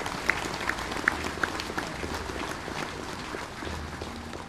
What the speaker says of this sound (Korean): 여러분 우리 참석하신 모든 사부대중을 위해 마지막으로 함께 큰 박수 한번 보내주시면 좋겠습니다.